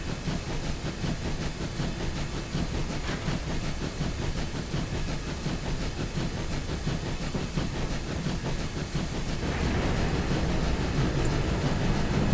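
Steam locomotive 3440 City of Truro running slowly in Train Simulator 2013, a steady loud rumble and hiss with faint rhythmic chuffing and rail clatter throughout, no talking.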